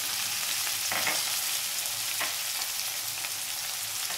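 Chopped onion frying in hot oil with crushed garlic, a loud, dense, continuous sizzle close by, with a couple of faint stirring knocks.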